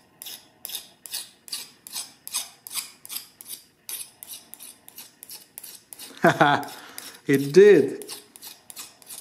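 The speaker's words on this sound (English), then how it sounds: "file sliding on it, barely making any marks" A file scrapes over a freshly hardened steel knife blade in a regular rhythm of about a dozen short strokes, close and crisp, followed by a brief spoken remark.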